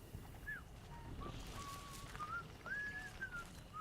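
A person whistles a short wandering melody of separate rising and falling notes over a steady windy outdoor ambience in the Atomfall video game, clear and moderately near with no talking.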